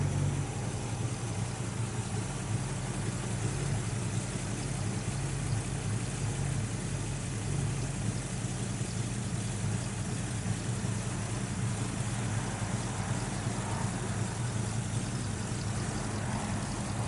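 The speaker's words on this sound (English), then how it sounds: "Motor runs real sweet. Got the factory 4-barrel intake." A 1965 Ford Mustang 2+2 Fastback with a factory 4-barrel intake idles steadily and fairly loud throughout, an even, continuous engine rumble with no voices over it.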